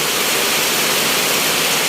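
Floodwater after heavy rain rushes steadily in a continuous broadband roar, loud and close, with no voices over it.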